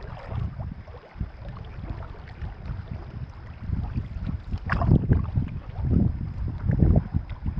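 A canoe moves past rocks on a Boundary Waters lake, paddle strokes splashing and knocking in irregular bursts close by, over wind buffeting the microphone.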